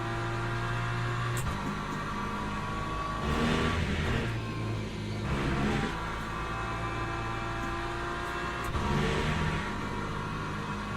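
Hypercars race in the Le Mans Ultimate sim, a continuous engine drone with several swelling revs and passing surges over a low hum.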